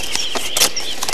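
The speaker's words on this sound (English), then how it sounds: "It was a beautiful day, and he could hear lots of... Birds!" Birds chirp in a children's story, a few quick, bright tweets spaced irregularly over about a second, light and close against a quiet background.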